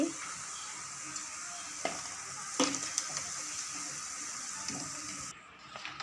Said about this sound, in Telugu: బెండకాయ ముక్కల్ని నూనెలో బాగా వేగిపోయినాయి